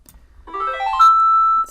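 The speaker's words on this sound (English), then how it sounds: "phone notification going off" A phone notification chime goes off indoors, a short rising run of clear electronic tones ending in one sustained bright note, close and alone.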